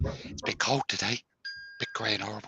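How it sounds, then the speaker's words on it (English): A short two-tone notification chime from a phone signalling a live stream has started, heard in a brief gap between stretches of someone talking in a Cornwall workshop. "That's my phone telling me that I've just gone live."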